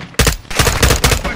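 Rapid bursts of gunfire in the video game Modern Warfare 2, a quick volley of loud, close shots firing in a tight rhythm over barely a second and a half.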